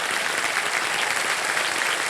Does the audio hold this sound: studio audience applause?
yes